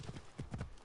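Horse hooves clip-clop on the ground in the Assassin's Creed Origins video game, several quick, close hoofbeats in an uneven trotting rhythm over a brief moment.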